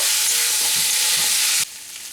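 Spiced bitter gourd stir-frying in a pan over medium flame, a loud, dense sizzle with stirring scrapes that drops abruptly to a quieter hiss near the end.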